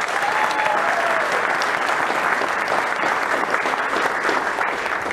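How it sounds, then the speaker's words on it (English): A crowd at a Reign FC and Tacoma Defiance club announcement event claps in a dense, steady burst of applause that holds at an even, loud level from start to finish. "Can we give him a round of applause?"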